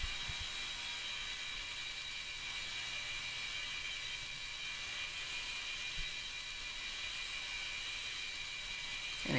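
A belt sander runs steadily while grinding a bevel, giving a constant high whir with a faint hissing grind, continuous and moderately distant, with no speech.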